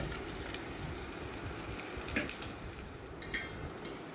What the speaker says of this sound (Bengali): এরপর আমরা এর মধ্যে পেঁয়াজ কুচি দিয়ে দিচ্ছি, আর তারপর এই পেঁয়াজগুলোকে ভেজে নেব।